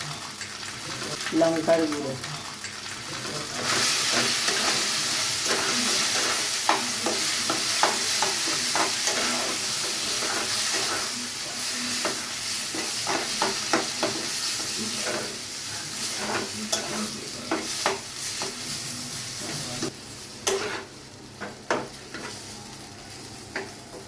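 A spiced mashed potato mixture with turmeric and chilli powder is stirred in a hot pan for a soybean paratha filling. It gives a steady close sizzle with repeated scraping strokes of the spoon, and there is no talking.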